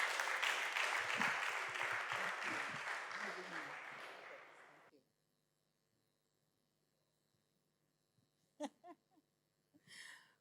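Audience applause at a book launch event fills the room loudly for about five seconds, then stops abruptly, leaving near silence with a faint hum before a few brief knocks and rustles.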